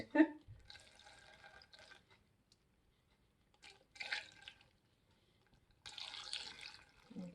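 Pickle brine poured through a funnel into a jar for refrigerator dill pickles, faint intermittent splashing and trickling in short bursts separated by quiet gaps.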